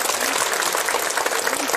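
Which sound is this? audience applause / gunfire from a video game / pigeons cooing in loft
audience applause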